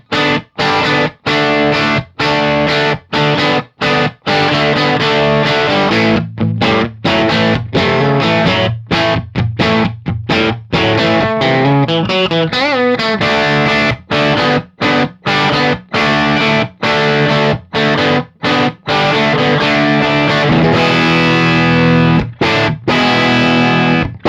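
A loud, distorted electric guitar with an uncovered PAF-style humbucker plays a driving rock riff of chunky chords broken by brief choked stops, continuous and close for the whole stretch.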